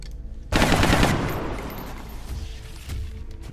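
A sudden loud burst of automatic suppressive gunfire in the strategy game XCOM Long War rattles for about half a second and then decays into a rumbling echo, with a softer thud near the end.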